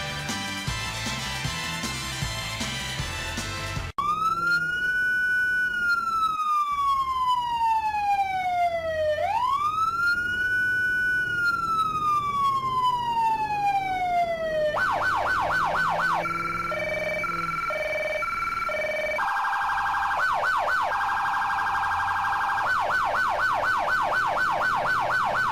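A police patrol car siren wails loudly and up close, gliding in long rising and falling sweeps, then switching to fast yelping and warbling patterns with short breaks between phases.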